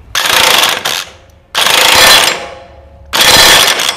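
An impact gun fires in three short, loud bursts of rapid rattling, each lasting about a second with brief pauses between, tightening a sprocket nut on a Royal Enfield Classic 350 motorcycle.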